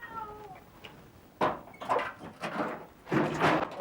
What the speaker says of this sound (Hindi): तो इतनी रात को आप बिल्ली छोड़ने जा रहे हैं?